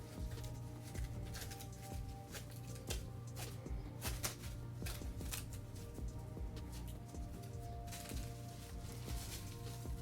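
Thin plastic barrier wrap crinkles and rustles as it is pulled taut and wound around a CNC S1 tattoo machine, a close, continuous crackling with dense irregular snaps throughout.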